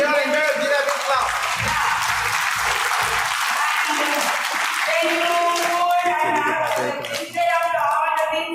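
Audience applause at a nursing association's national conference, a dense sustained wash of clapping lasting several seconds, mixed with a voice speaking over it through the venue's sound system.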